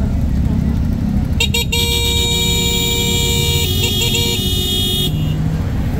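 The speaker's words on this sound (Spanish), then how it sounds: "rapidito van pitándole a todo el mundo rápido" Car horns honk in busy street traffic in Xela, Guatemala, a steady multi-tone blare lasting several seconds over constant road and engine noise from a moving motorcycle.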